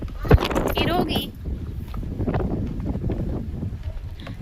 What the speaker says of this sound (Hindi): ठंडी ठंडी कूल कूल हवा चल रही है।